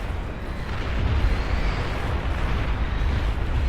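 Missile explosions in the strategy game Beyond All Reason merge into a continuous loud rumbling roar of many blasts, swelling slightly after the first second and holding steady without pause.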